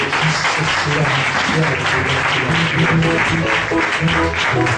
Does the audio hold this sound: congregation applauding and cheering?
yes